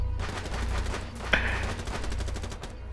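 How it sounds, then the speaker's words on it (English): Rapid gunfire from Rainbow Six Siege rattles in a steady automatic burst for about three seconds. There is a brief sharper crack midway and no talking over it. "That was some horrible shooting."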